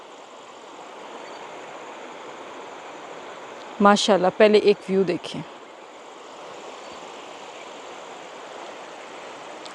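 Clear, deep stream water runs steadily as a broadband rush throughout, heard up close, with a woman's brief speech partway through.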